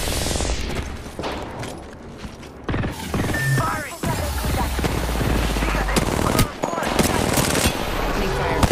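Gunfire in Apex Legends video game: loud, close bursts of automatic fire with mechanical clacks and reload sounds, repeating in rapid volleys across the scene, with voices occasionally heard in the mix.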